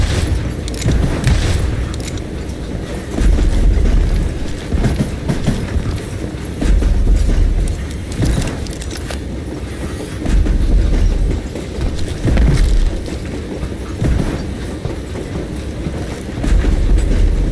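A train rolls along in the Call of Juarez video game, a heavy continuous rumble with repeated clickety-clack surges and low booms swelling every couple of seconds, loud and steady with no talking.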